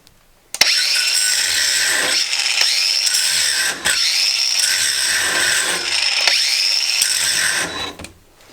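A Craftsman angle grinder bites into a steel U-bolt, producing a loud, harsh metallic whine that swells and eases in repeated pushes, each lasting a second or two, alone with no talk.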